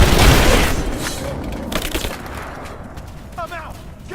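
Gunfire in the video game Rise of the Tomb Raider: a loud booming shot opens, followed by scattered cracks and bursts under shouted combat callouts from enemy soldiers.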